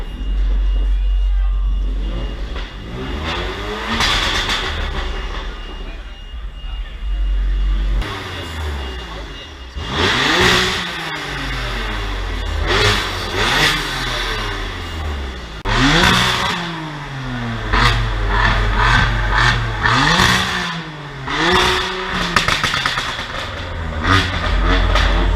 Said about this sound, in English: Is your car too loud?